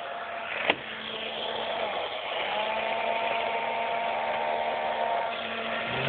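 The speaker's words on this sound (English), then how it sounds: "put the drill bit up there and drill a hole" An electric drill whirs steadily while drilling a hole, its motor tone holding level and then rising in pitch partway through, with a brief knock near the start and no talk.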